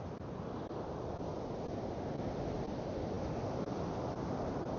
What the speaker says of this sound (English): Hopefully the wind isn't too bad and making the audio crap